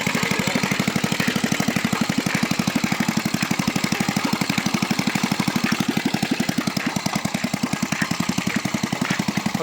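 A small homemade mini tiller engine runs close by with a loud, rapid, even thudding putter that holds steady throughout.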